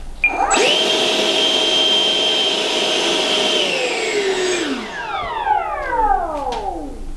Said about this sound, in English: Now, this has a 64mm EDF. Let's run that up and see how she sounds.